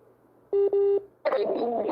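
Two short electronic telephone dialing tones beep in quick succession, followed by a voice speaking on the phone line.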